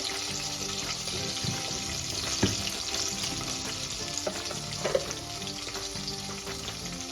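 Mustard seeds and cumin hit hot oil while radish bhaji is prepared, giving a loud, close sizzle with scattered crackles and pops and a few brief clinks throughout, with no voices.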